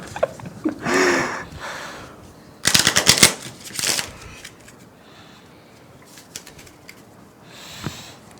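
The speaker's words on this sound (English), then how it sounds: "Power shuffle multiple times." Several quick riffling bursts of a deck of cards being shuffled, loud and close, with short pauses between shuffles.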